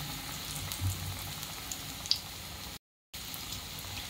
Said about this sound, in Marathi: आता हे कोफ्ते तेलात टाकतोय